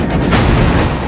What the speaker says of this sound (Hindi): ये यूक्रेन की बख्तरबंद गाड़ी है। यहां भी धमाका होता है।